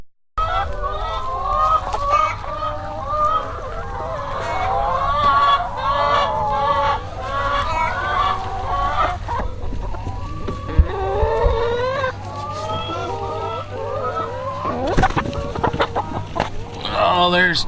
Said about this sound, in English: there's chickens for days under their eggs too